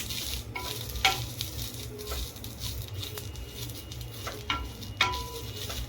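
Green chillies and cumin seeds roast in a pan with a soft, steady sizzle, scattered patters and sharp little pops, plus occasional stirring scrapes up close.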